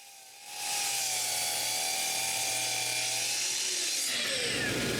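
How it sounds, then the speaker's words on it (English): A saw cuts several wooden drawer sides to length in one pass: the motor spins up to a loud, steady whirring drone, holds for a few seconds, then the pitch drops as it winds down, with no voices. "To make all the sides the same length, I cut all of them in one shot."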